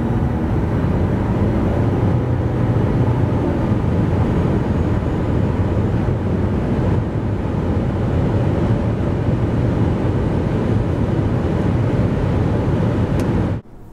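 Mitsubishi Eclipse Cross accelerating from 90 to 140 km/h, a loud steady roar of road, wind and engine noise filling the cabin without a break until a sudden cutoff at the end.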